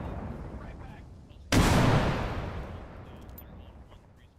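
Grenade explosion in Bellum, an online shooter, with a sudden loud blast that booms and slowly fades, preceded by a muffled battle rumble and distant gunfire.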